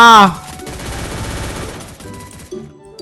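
Rapid burst of gunfire from a gun in the Free Fire shooting game, a dense loud volley that fades out over a few seconds, with a brief voice-like sound near the start.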